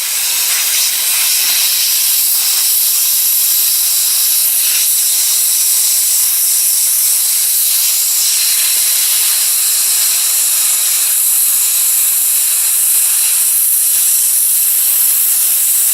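A hot-air plastic welding gun heats a plastic bumper for repair, giving a steady, loud, close hiss of blown air that runs unbroken throughout.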